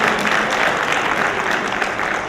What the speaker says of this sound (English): Let's first of all give a big round of applause to Sean and the team.